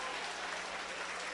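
A church congregation applauding during a sermon, a dense, even wash of clapping from a crowd, brief and fairly distant.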